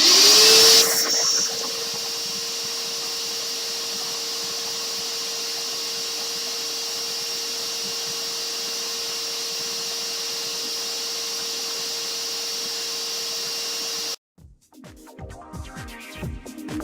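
A vacuum cleaner runs loud and steady for about fourteen seconds, sucking up sanded paint dust from a sign, then cuts off, leaving quieter handling noises.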